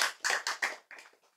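Handclapping from an audience at a religious lecture: a short run of about six sharp claps, each fading quickly, fairly close and alone.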